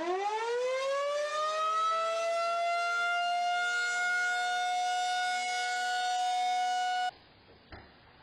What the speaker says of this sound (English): they bought a tornado siren on the internet and loves to show it off